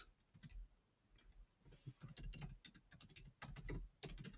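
Rapid, uneven clicks of a computer keyboard being typed on nearby, short bursts of keystrokes with brief pauses between them, no voices.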